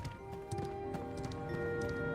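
Horse hooves clip-clopping in the video game Ashes of Creation, a steady series of soft clops at a walking pace over a quiet, constant tonal game background with no talk.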